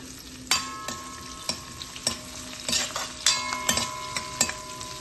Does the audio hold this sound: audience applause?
no